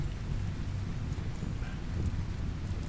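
Steady rain in the video game RimWorld, a dense, even wash of noise with a low rumble that holds constant throughout, no voices over it.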